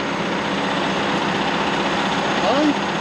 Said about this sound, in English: That's Lynn's tractor, that's a 90, isn't it?